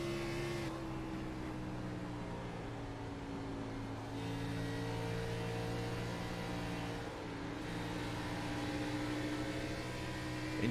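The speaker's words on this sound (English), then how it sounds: "you can hear the modulation of the throttle right there" Onboard race car engine at Atlanta, the 22 machine running fifth, drones steadily and loud with clear harmonic tones, dipping briefly around four and seven seconds as the throttle is eased and reapplied.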